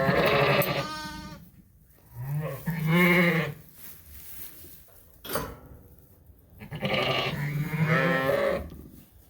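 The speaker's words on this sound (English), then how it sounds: "we can go check out the big Dorset flock here" A flock of Dorset sheep bleats in a barn, several loud close calls spaced by pauses, with faint clinks in the background.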